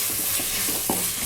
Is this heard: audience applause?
no